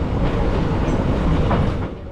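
A train on the Saigon to Hanoi line rolls along the tracks with a loud, close clatter and rumble of wheels over rails, steady and brief, with no voices.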